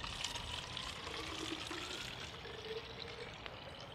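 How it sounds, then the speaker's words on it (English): Boiled water is poured from a container into a water bottle outdoors, a faint steady trickling and splashing stream lasting the whole stretch. "So I'm just going to transfer that into the water bottle."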